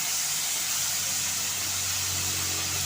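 Chopped onion and garlic sizzle in hot oil in a pan, a loud, steady hiss with no pauses and no talking.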